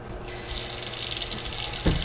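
Tap water runs steadily into a kitchen sink as ingredients such as onion and bell pepper are rinsed, a broad continuous splash that starts abruptly and stays close and fairly loud, with a brief knock near the end.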